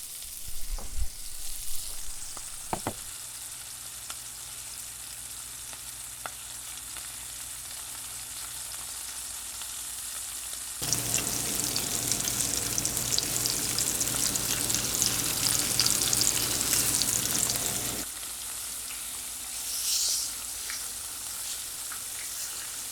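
Small yellow perch fillets fry in a few tablespoons of olive oil over medium-high heat, a steady crackling sizzle that swells loudly for several seconds in the middle, then settles back to a quieter hiss, with no voices.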